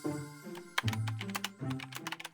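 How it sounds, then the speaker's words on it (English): Typing on a computer keyboard: a run of quick, crisp key clicks over a sustained tonal background. "as I fangirl on my keyboard"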